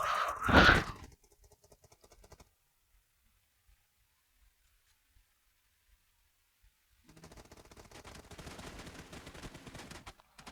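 Gunfire in the mobile battle-royale game PUBG Mobile: a loud, dense burst of shots right at the start, then near silence, followed by a rougher, lower-level stretch of game noise toward the end.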